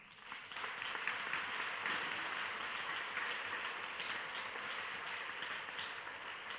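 Church congregation applauding steadily in acclamation of God, a dense, even wash of many hands clapping that holds for several seconds at moderate distance, with no speech over it.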